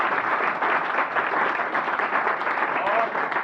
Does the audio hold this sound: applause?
yes